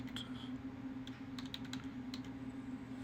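Fingers type quick bursts of keystrokes on a computer keyboard, searching for Bluetooth sunglasses in an online dropshipping catalog. The clicks come in irregular taps over a steady low electrical hum, with no voices.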